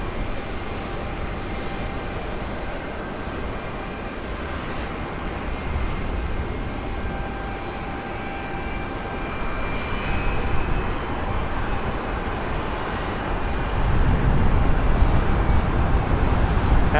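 A FedEx Boeing 757 jet taxis at Portland Airport, its steady engine whine and rumble droning at a distance and swelling slightly louder toward the end.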